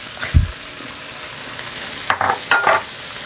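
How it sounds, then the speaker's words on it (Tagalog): Chopped shrimp sauté in a pan with a low background sizzle, broken by a few distinct scraping stirs, a thump near the start and two bursts of scraping later on. "gisa-gisa muna natin yung ating hipon"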